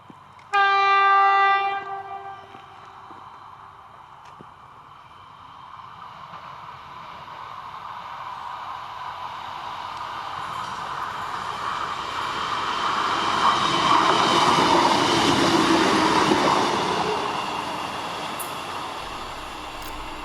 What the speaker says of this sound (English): A regular service train heads for Carlisle. It will pass non-stop through Wetheral Station.